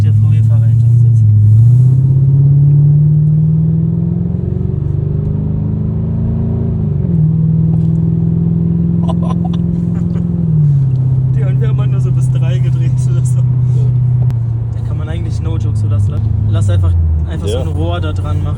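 A Mercedes CL500 V8 with straight-pipe exhaust and no mufflers rumbles loudly from inside the car as it cruises and shifts, a deep steady drone that rises and dips, with people talking over it.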